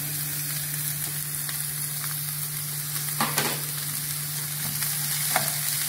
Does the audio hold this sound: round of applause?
no